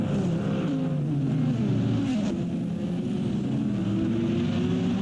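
GT race cars at Long Beach, including Corvettes, a Toyota and a GT300, as engines wail through shifting pitches under a continuous roar, several cars close together and passing steadily, no voices.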